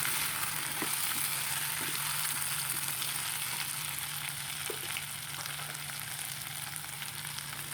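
A pan of kenaf leaves cooking with chicken sizzles steadily, a soft, even hiss with scattered light pops and a few quiet stirring knocks, heard alone without talk.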